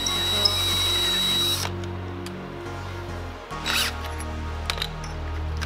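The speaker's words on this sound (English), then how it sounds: "we're going to drill many small holes" A power drill whirs loudly and steadily, cuts out briefly, then starts again with a higher-pitched bite as it drills many small holes into a race jet ski hull.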